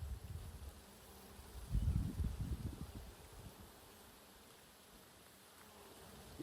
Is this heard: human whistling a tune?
no